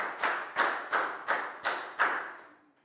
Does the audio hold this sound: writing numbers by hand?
no